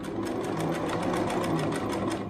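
Sewing machine stitching back over the elastic strap of a homemade cloth face mask, a steady close whirring run with fast even needle pulses throughout, no talking.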